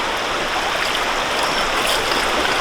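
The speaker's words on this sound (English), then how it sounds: "start adding water" Water poured through a gold sluice classifier with dirt and rocks, draining into a bucket: a continuous, close, rushing splash with no breaks.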